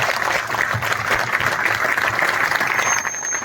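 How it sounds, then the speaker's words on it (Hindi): Clapping from a gathering of striking clerks at a protest sit-in in Haryana, a dense, steady wash of hands that holds evenly for a few seconds at moderate distance. "साथियों उनके लिए जोरदार तालियां होनी चाहिए"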